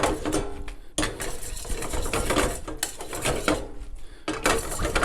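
Spaghetti aglio e olio with lemon, parsley and Calabrian chili being tossed in a pan, giving a steady, close scraping and clattering of utensil against metal that runs continuously with brief pauses.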